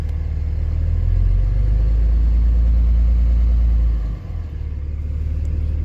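A Cummins-powered truck engine idles loud and close with a deep steady rumble, dipping briefly near the end before settling back to the same drone.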